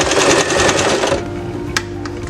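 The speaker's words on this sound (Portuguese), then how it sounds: "Então, retrocesso do início ao fim." Sewing machine backstitching along a zipper on a phone-holder clutch: a loud, rapid continuous stitching whir runs close up for about a second, then stops, leaving quieter mechanical clicks and one sharp tap.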